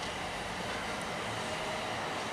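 British Rail Class 350 train running through South Hampstead station, a steady broadband rumble and rush of wheels and motion that stays loud and even throughout, with no voices.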